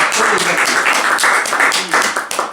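A crowd at a French student association party claps loudly and continuously for two people called up for a drinking game, a thick, close burst of hands with a few scattered voices underneath.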